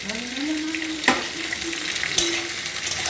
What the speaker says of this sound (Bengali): ভালো করে নাড়াচাড়া করে এবার আমি মটরশুঁটিটা দিয়ে দেবো।